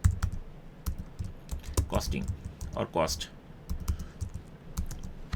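Typing on a computer keyboard clicks in irregular bursts of keystrokes under a person talking, fairly close and moderately loud.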